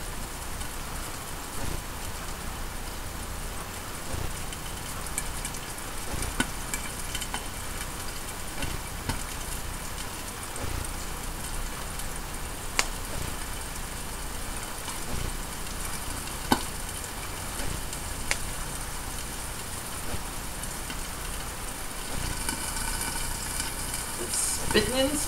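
Salmon frying in a hot pan on a busy kitchen stove, a steady dense spitting and spattering sizzle that runs unbroken throughout, close and moderately loud, with a few sharper pops and no speech.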